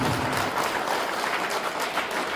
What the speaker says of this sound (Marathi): डॉक्टर येळापुरेच्या नावानं जोरदार टाळी